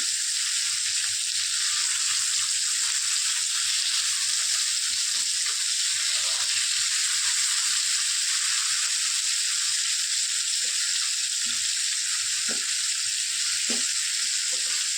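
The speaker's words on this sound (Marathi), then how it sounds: "दुसरी बाजू आपण छान फ्राय करून घेऊया" Rohu fish fries Bengali-style in mustard oil, giving a steady, even sizzle that runs unbroken at close range, with a few faint pops and clinks underneath and no voices.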